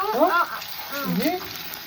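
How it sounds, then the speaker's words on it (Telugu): Ginger garlic paste frying in a pan with browned onion for prawn pepper fry, a soft steady sizzle close by beneath a person talking. "పచ్చి స్మెల్లో వెళ్ళే వరకు ఫ్రై చేసుకున్నాం"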